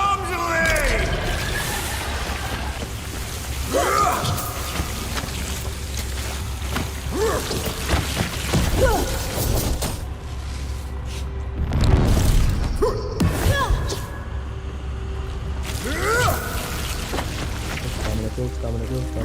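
Bombs exploding in Dune Awakening, several deep booming blasts spread across a continuous low engine drone, with a player shouting excitedly in between.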